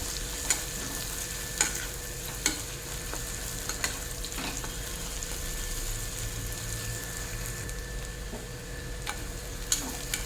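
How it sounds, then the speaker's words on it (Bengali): Crushed ginger and garlic frying in oil while being stirred for a jackfruit seed and prawn curry, a low continuous sizzle with sharp periodic spatula taps against the pan, close and alone. "এটাও এর সঙ্গে নাড়িয়ে চাড়িয়ে ভালো করে ভেজে নেব যাতে করে আদা রসুনের কাঁচা ভাব চলে যায়"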